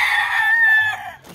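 A rooster crows once, loud and close, in a single drawn-out call that fades off at the end.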